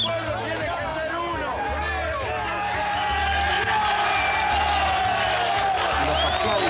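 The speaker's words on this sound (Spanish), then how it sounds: "ahora están entonando el clásico Argentina, Argentina" A large crowd at a political gathering of the Juventud Peronista chants "Argentina, Argentina" in a rhythmic, repeated pattern, loud and sustained across the whole stretch with general crowd babble mixed in.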